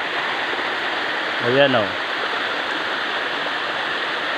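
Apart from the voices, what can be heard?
waterfall and flowing stream water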